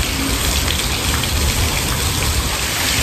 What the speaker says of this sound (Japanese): いやー、土砂降りだなー。 すげえ雨だな。